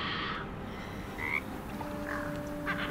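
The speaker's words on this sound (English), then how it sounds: "There's a frog over there." Frog croaks from the Baldur's Gate 3 game world, a few short croaking calls over a steady ambient bed, moderately close with no talking.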